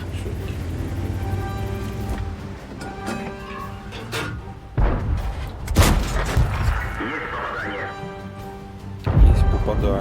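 Several deep cannon booms from a Panther II tank in a World of Tanks–style game, separated by a few seconds, over a steady engine drone, with someone talking between shots.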